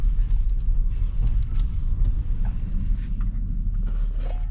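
A 2018 Toyota Highlander with newly replaced rear brakes drives along, giving a steady low road rumble and engine drone with faint creaks and mechanical ticks, and no talking.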